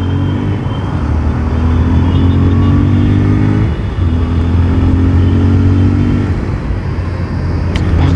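A 2023 Bajaj Pulsar 125 fuel-injected motorcycle pulling hard on the road, its engine climbing through the revs in rising sweeps with a brief dip for a gear change, loud and close from the rider's position.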